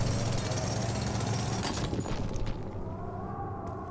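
A drill charge blasts apart a rock wall in a video game, a loud rumbling crash with a burst of debris around the two-second mark, then a lower sustained rumble fading out.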